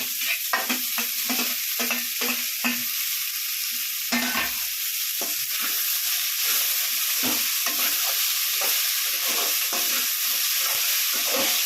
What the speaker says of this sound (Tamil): எண்ணெய் கொஞ்சம் ஆ எண்ணெய் தடணும்னா கொஞ்சம் சுமாராக இருக்கும் இதோ தக்காளி போட்டுருவேன்